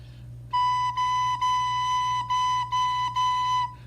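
A single recorder note played with the tongue: about seven clean, steady tones in a row, each separated by a short tongued break. The note sounds close and clear with no talking over it.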